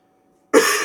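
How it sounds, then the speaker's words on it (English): A person still recovering from the flu blows their nose once, a sudden close, harsh blast of air breaking a brief silence. "I need to blow my nose."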